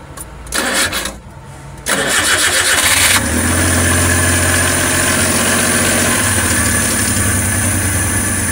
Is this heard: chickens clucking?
no